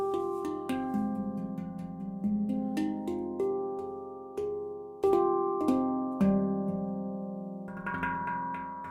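A handpan rings out in slow, sustained, overlapping metallic notes, each struck tone blooming and decaying as a melodic phrase unfolds, played solo and close with no voices.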